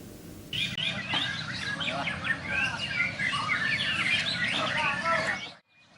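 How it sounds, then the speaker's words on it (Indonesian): Competing songbirds at an outdoor bird-singing contest in Banda Aceh sing in dense, overlapping chirps and trills, close and lively over a steady murmur of crowd noise, with talk mixed in. "burung berkicau dari berbagai daerah diikutkan dalam lomba kicau burung"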